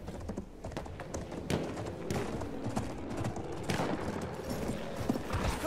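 A horse gallops in the video game Battlefield 1, with a steady rapid clip-clop of hooves and a brief whinny, moderately loud amid game effects and no talk.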